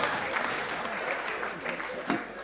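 Crowd applause at a live comedy show, a continuous wash of clapping with some voices mixed in, moderately loud and steady throughout.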